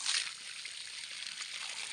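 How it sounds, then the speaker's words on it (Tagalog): A strong, high-pressure stream of spring water gushes steadily in a province setting, a continuous bright hiss heard close and fairly quiet, with no talk over it. "Lakas ng pressure ng tubig."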